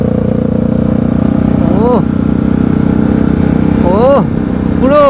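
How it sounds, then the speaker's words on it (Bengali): A sports motorcycle engine and exhaust running loud and close, holding a steady idle with three quick throttle blips that rise and fall in pitch. "আর বাইকের সাউন্ডটা দেখো"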